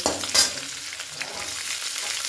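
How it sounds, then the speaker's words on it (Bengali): Carrot strips hitting hot oil for fried rice, giving a steady broadband sizzle with a brief louder burst near the start as the pieces go in, then continuous frying with light stirring, no voices. "তেলের মধ্যে আমরা লম্বা লম্বা করে কেটে রাখা গাজরের টুকরোগুলো দিয়ে দেব"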